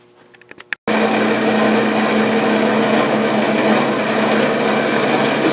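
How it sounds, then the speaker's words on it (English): A 14-inch bandsaw cuts through stock in a workshop, a loud, steady broadband whine starting abruptly after a second of faint handling noise and holding continuously to the end. "I'll go ahead and cut this down on the bandsaw"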